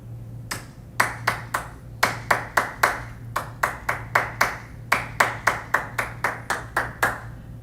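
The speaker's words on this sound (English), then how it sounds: "We can now clap this rhythm in a steady meter." A single pair of hands claps out a rhythm in a steady meter, sharp close claps grouped in short patterns over a faint constant hum, with brief gaps between the phrases.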